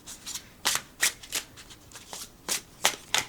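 Overhand shuffling of an art-paper cardstock tarot deck: a series of crisp, papery swishes in irregular bursts, close and fairly loud, with no talking.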